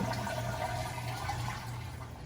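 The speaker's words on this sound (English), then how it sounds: "Go ahead and flush it, hold the flapper all the way open where you get as much of that water out" A toilet flushing with the flapper held fully open to drain the tank before swapping the wax ring; a loud, steady, close rush of draining water throughout, no voices.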